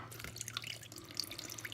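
Liquid is poured off the top of an old yeast slurry in a home kitchen. It makes soft trickling and dripping sounds with a few bright droplet plinks, close and steady, and no one speaks.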